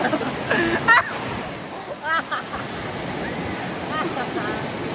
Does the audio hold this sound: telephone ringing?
no